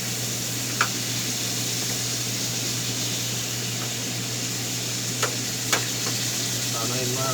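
Adobo, meat braised in soy and vinegar, sizzles steadily in a pan with a continuous hiss and a few sharp pops and crackles. It is close and even, with a low hum beneath and no talk.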